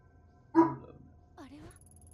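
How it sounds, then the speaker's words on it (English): A dog barks in the video game Tokyo: Dark Remembrance, one sharp loud bark followed by a softer whining yelp a moment later, over a low ambient game background. "Rio, stop barking."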